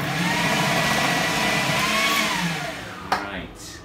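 A food processor whirs at steady high speed chopping onion, a loud droning motor hum that winds down near the end with a sharp clack, with faint talk underneath.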